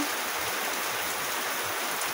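Heavy first rain of a storm in Masbate falls in a steady, unbroken hiss, close and fairly loud, with no talking over it.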